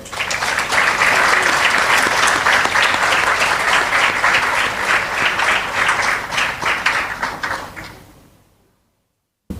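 Loud, full applause from an awards ceremony audience honoring a special school teacher, dense and sustained before fading out to silence near the end.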